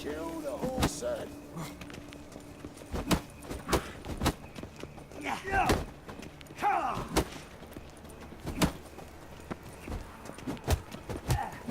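Horse hooves clip-clopping in The Witcher 3: Wild Hunt, with irregular thuds and hoof strikes among game combat noise and voices shouting over it.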